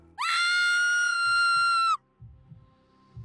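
A woman's piercing horror scream rises sharply and holds loud and steady for nearly two seconds before cutting off, followed by faint low thuds.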